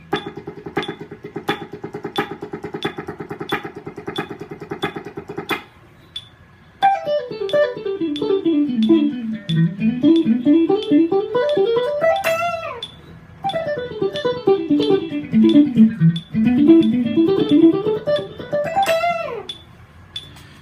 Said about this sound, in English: You can also do your 6s as 6 tuplets, which would sound like this